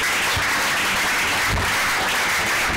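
A church congregation claps and applauds during a French Bible teaching, a loud, dense, continuous wash of hand claps throughout.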